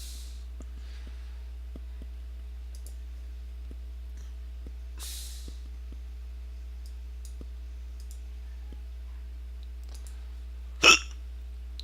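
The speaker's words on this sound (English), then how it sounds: "That was a hiccup." A single sharp hiccup near the end, loud against a quiet background with a low steady hum and a few faint clicks.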